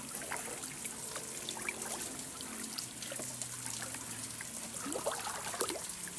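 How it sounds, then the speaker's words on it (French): Water trickles steadily in a small, close waterfall over moss near Lac de Vouglans, a soft continuous babble with tiny splashes and drips scattered throughout. "Écoutez la petite cascade."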